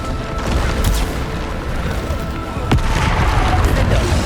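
In Hogwarts Legacy, repeated Bombarda explosion spells go off during a trial, a dense run of booming blasts with one sharp crack near the end, loud and continuous.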